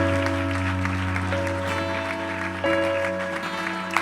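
A church congregation applauds in a steady wash of clapping beneath sustained keyboard or organ chords that shift partway through.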